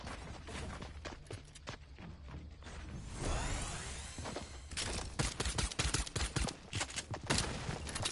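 Fortnite battle royale gunfire begins as scattered shots, passes a whooshing mechanical stretch, then turns into a quick series of sharp, loud cracks that repeat close by.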